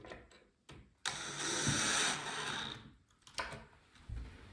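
A screw is driven into a wooden farmhouse shoe bench with a power driver, a sustained close whirring burst of about two seconds bracketed by short clicks and handling knocks.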